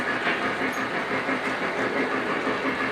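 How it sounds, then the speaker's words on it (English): Lionel and MTH model trains run along the track, producing a steady, fairly loud rolling rumble and whir without distinct clicks, close by and without talk. "We'll catch the trains coming by this way right here."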